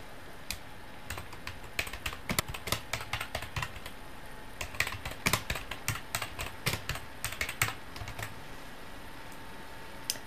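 Someone types a multiple-choice question into e-learning course software on a computer keyboard, with irregular bursts of crisp close key clicks and brief pauses running throughout, no talking.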